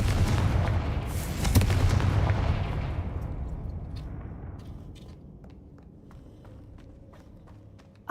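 A fire spell explosion in the video game Hogwarts Legacy, a loud booming burst with crackling debris that slowly dies away into a quiet rumble, followed by faint footsteps.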